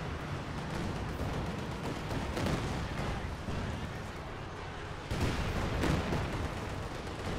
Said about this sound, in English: Artillery coming in this region.